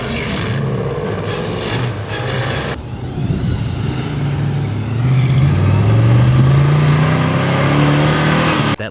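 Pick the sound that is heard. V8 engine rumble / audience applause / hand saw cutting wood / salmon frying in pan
V8 engine rumble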